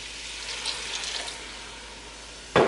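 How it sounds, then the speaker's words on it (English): Beer pours into a pot of venison chili, a faint liquid trickle that swells into a short, louder gush at the end, with no talking. "Now go ahead and add your beer."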